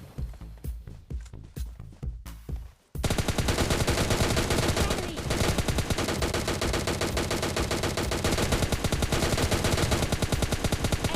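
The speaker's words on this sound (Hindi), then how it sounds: "वो बग्गी वाला बंदा फिर से आ जाता है और मुझ पर फायरिंग करने लगता है" Mobile battle-royale gunfire from PUBG Mobile Lite: a few separate loud shots, then a dense, sustained burst of rapid automatic fire that runs unbroken for several seconds, close and overpowering, with no voices.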